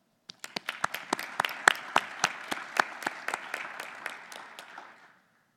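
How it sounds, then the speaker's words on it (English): A modest audience claps for research award winners, about twenty distinct, crisp hand claps in a loose rhythm that thin out and fade after a few seconds. "Give them a round of applause."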